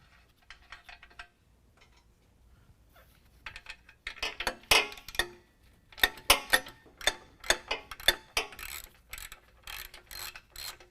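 A ratchet removes the 15mm nuts on the exhaust front pipe of a 2019 Dodge Ram 1500. Quiet clicks come first, then bursts of rapid, close ratcheting clicks repeat in quick strokes.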